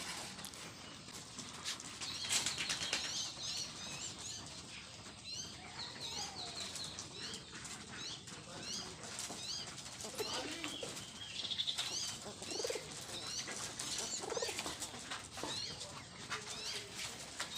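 Pet pigeons flutter their wings and coo softly around a feeding spot, steady rustling and soft calls running throughout, moderately close.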